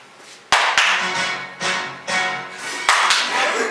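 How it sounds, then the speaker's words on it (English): Hand claps aimed at a clap switch in a house: two quick pairs of sharp, close claps, each followed by a loud, broad rushing noise that fills the gaps. "you can clap to turn on or off anything you want"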